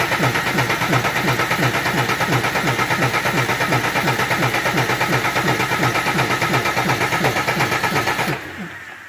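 An M35A2 military truck with a swapped 6BT Cummins diesel engine starts and settles into a loud, steady, rapidly pulsing idle close by, then cuts off abruptly near the end.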